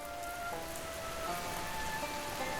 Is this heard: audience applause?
no